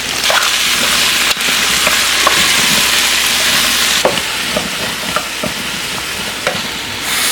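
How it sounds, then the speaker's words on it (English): Frozen mushrooms sizzle loudly in a pan with turkey sausage and potatoes, a steady broadband hiss with occasional stirring scrapes and crackles throughout, no talking. "Throw in your frozen mushrooms."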